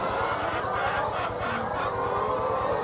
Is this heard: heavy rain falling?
no